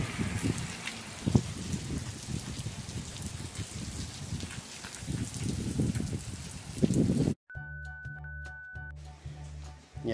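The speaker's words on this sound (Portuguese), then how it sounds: "agora a chuva começou a cair bem mais forte, bem mais torrencial" Heavy, dense torrential rain from a cyclone in Santa Catarina, Brazil, pouring steadily for several seconds with scattered louder splashes, then cutting abruptly to a different quieter background with tonal electronic sounds.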